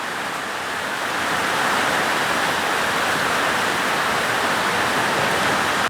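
Heavy rain pours down in a dense, steady roar that builds slightly and stays loud and unbroken throughout.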